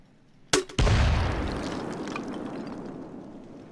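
An M79 grenade launcher firing an incendiary round in Payday 2: a sharp launch crack followed a moment later by a heavy, booming burst whose roar slowly fades over several seconds, with no talk.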